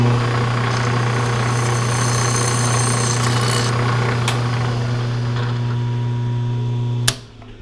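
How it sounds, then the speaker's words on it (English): A drill bores a small hole into an aluminium track extrusion for a TrueTrac expandable track table kit, a loud continuous whine and grinding hum that cuts off abruptly near the end. "So let's just drill a little hole and see how this works."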